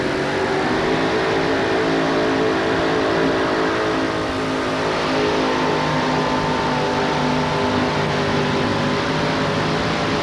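Frank Fiala's brand-new Rosebud Special drag truck on its first night out, a loud, steady engine roar holding at full power for about ten seconds with no break.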